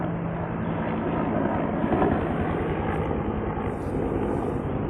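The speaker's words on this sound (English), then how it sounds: "I hear a helicopter?" A helicopter passes overhead outdoors on a cold, sunny day, its steady rotor and engine drone filling the whole clip at an even, moderately loud level with no talk.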